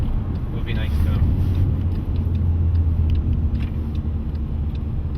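A Ferrari road car on a racing circuit, its engine a steady, loud low rumble that runs on throughout, with wind and road noise over it.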